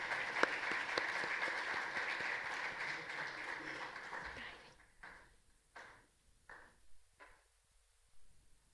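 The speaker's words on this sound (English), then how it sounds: "Please give a round of applause." An audience at an Intellectual Property Rights workshop applauds to welcome a guest on stage: dense clapping for about four seconds, then fading into a few scattered claps and soft thuds.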